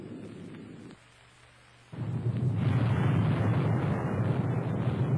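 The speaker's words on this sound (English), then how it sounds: "Here's the explosion again from ground level relatively close to the blast." Explosive test blast heard from 2.5 miles away: a brief quiet gap, then a sudden loud onset swelling into a sustained deep rumbling roar that lingers to the end.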